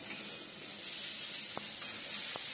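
Nigella seeds dropped into hot oil for a thor bata dish, giving a steady, fairly quiet hiss of sizzling with a couple of faint ticks, no voices.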